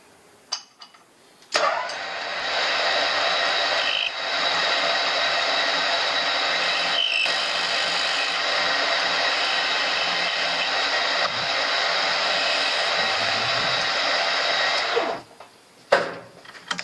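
Metal lathe turning at 1000 rpm while machining a magnetic steering-wheel puller, a steady loud motor hum and whir starting after a brief moment, running evenly, then stopping near the end.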